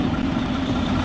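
A semi truck tractor engine idles with a steady low rumble while backing its trailer into a dock in Phoenix, close and loud with no voices.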